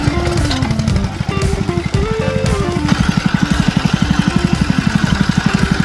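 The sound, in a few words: engine idling after being started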